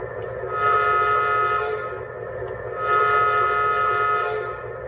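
Menards Union Pacific model train sound effects, two long blasts of a small-speaker diesel horn with a steady chord, separated by a short pause, heard close with no talking.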